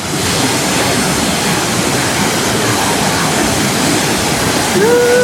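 Kawasan Falls waterfall pours into its pool in a loud, steady, close rush of falling water that continues unbroken throughout.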